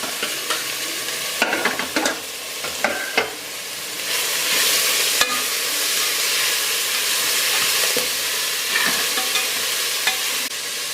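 Peas, tomato and coriander fry and get stirred in a pan for veg pulao, giving a constant loud sizzle and hiss broken by scraping stirs and sharp clicks of the utensil, with no talking.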